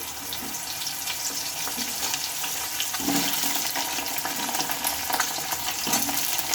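Pieces of pointed gourd frying in hot oil in a pan, giving a steady, close sizzle with fine crackling and occasional stirring sounds.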